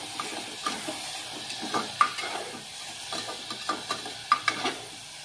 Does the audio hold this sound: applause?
no